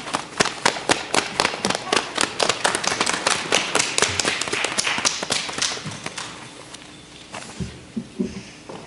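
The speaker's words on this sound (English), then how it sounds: "As Charlie Brown walks in, everybody claps." An audience at a Sunday school Christmas program claps for Charlie Brown's entrance, a dense burst of near applause that thins into scattered claps toward the end.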